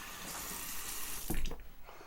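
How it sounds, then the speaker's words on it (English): Water running from a tap into a shaving bowl, a soft steady trickle that ends in a brief louder splash and gurgle near the end. "Throw some more water in that."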